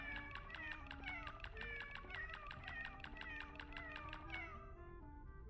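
A meow button fires over and over, a rapid string of near-identical cat meows stacked into a steady stream at low level before stopping abruptly.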